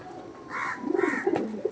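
Kasmadoma pigeons of the Madras Chennai breed coo close by in a short series of low, throaty, rolling calls, with nobody talking.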